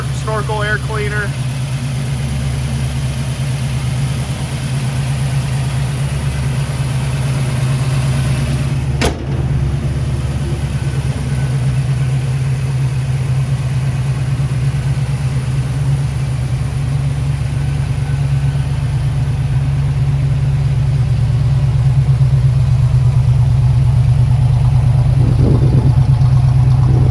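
A restored Chevy Nova SS with a 327 V8, aluminum intake, Edelbrock carburetor and 3-speed automatic idles with a steady, even low rumble throughout, loud and close, with a brief knock partway through.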